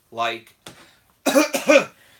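A few harsh coughs from one person, close to the microphone, with a short vocal sound before them and brief pauses between.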